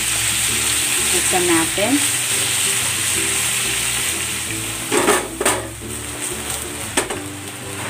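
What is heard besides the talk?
beef frying and being stirred in a pan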